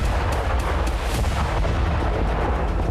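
A Russian drone strike on a Ukrainian airbase hits parked Su-27 and Su-25 fighter jets, producing a loud, sustained booming rumble punctuated by repeated sharp cracks like heavy gunfire, with no voices.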